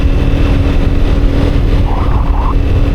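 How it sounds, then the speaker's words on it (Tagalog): A failing motorcycle engine on Marcos Highway runs steadily and loudly up close, its broadband rumble holding level throughout with a brief higher whine near the end. "nag-ibang tunog ng makina ng aking motor"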